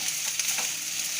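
Vegetables, capsicum among them for Mexican rice, sizzle briefly in a hot pan, with a bright continuous frying hiss and light stirring sounds, close and clear with no talking.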